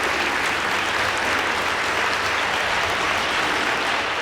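Audience at a school debate between Light International School and Aga Khan High School applauds the winning school, Light International School, with continuous, evenly dense clapping from a sizeable crowd, steady in loudness from start to finish.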